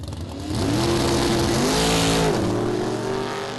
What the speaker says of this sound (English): Super Street, Mark Watkins in the near lane with that really cool looking little Datsun up against the Camaro of Harrison Brown